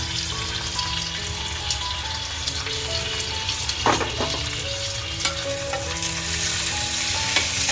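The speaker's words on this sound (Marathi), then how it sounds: "टमाटर पण चांगला परतून घ्यायचा आहे" Chopped tomatoes frying with browned onions in a pan give a continuous, dense sizzle, close up, with a few brief clinks and scrapes of a stirring utensil. No voices.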